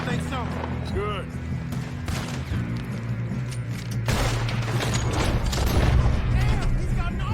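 Gunfire in the Western video game Red Dead Redemption, a dense mix of shots and blasts over steady background music and ambience, getting louder and busier in the second half with voices talking over it.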